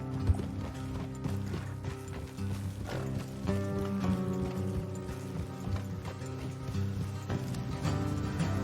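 Horses trotting along a road in Red Dead Redemption II, a steady, busy clip-clop of hooves mixed with creaking tack and a low musical score underneath, with no voices.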